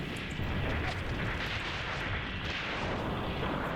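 Aircraft strafing infantry in the Graviteam Tactics war game, a dense continuous roar of gunfire and rumbling blasts lasting throughout, loud and heavy with no clear pauses.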